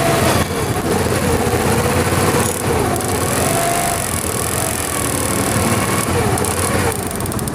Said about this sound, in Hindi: स्टार्टिंग भी इसकी बिल्कुल ठीक है यहाँ पे और बंद भी नहीं हो रही है बाइक